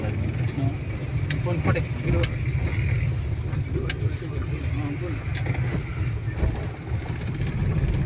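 A car drives in second gear during a driving lesson in Nizamabad, its engine holding a steady, close hum inside the cabin while people talk over it.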